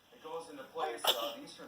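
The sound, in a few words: baby sneezing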